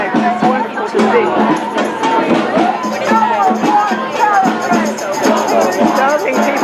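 A large outdoor rally crowd at a No Kings protest in Philadelphia makes a steady, dense murmur of many voices, with scattered shouts and a faint cheer, continuous and fairly loud throughout.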